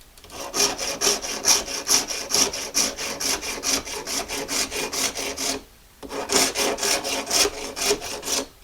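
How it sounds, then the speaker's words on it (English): A Shinto rasp, a hacksaw-style blade, files a bone fish hook in quick, regular back-and-forth strokes at close range, pausing briefly before the rhythmic rasping resumes. "The Shinto rasp, by the way, is the same sort of saw blade that's used for making hacksaw. It does a nice job on the bone."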